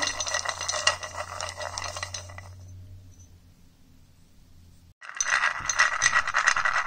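Terracotta beads being stirred vigorously with paint in a bowl make a steady, close clattering rattle that pauses briefly and then resumes just as busily.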